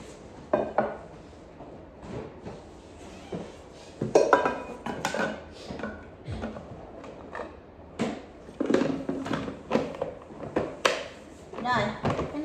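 A used electric rice pressure cooker pot is handled, with metallic clinks, knocks and lid clatters at irregular intervals while a person talks throughout.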